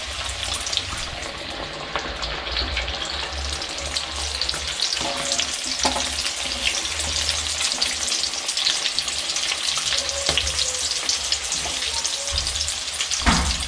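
Oats-coated chicken pieces fry in well-heated oil for broasted chicken, a steady dense crackling sizzle running throughout with occasional brief clinks and stirring, close and fairly loud, no talking.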